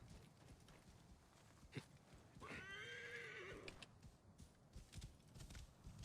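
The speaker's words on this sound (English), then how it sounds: "Just summon a horse and my horse just does stupid things" A horse in the video game Assassin's Creed Origins whinnies loudly with a rising, wavering call lasting about a second, amid soft hoof clops and background noise.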